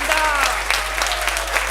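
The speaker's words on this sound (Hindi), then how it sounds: "एक बार जोरदार तालियों से शानदार जानदार।" Audience applause at a training event, a brief burst of clapping from a crowd heard close.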